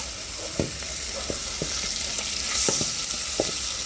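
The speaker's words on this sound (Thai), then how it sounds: "ผัดเครื่องให้หอมก่อน" Galangal, pepper and garlic paste stir-fried in coconut milk in a small pot sizzles steadily, with a spoon scraping and clicking at irregular intervals up close.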